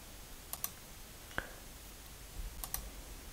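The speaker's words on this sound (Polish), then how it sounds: "Klikamy na nią prawym przyciskiem myszy i wybieramy opcję zainstaluj." A few sharp, faint mouse clicks on a computer while a font is being installed, spaced apart in a quiet room with no talking.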